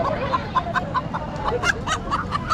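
Layer hen clucking at a busy Bastar market stall in Dantewada: repeated short clucks in a quick irregular series, fairly close, over a steady bed of market crowd noise.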